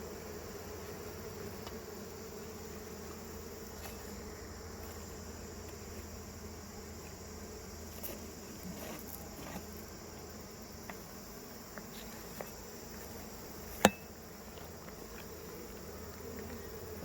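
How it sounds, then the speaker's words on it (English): Wasps drone and hum around a beehive during a Langstroth to Layens hive conversion, a constant low buzz of many insects at moderate distance, with faint clicks and one sharp tap near the end, no talking. "a lot of wasps around here"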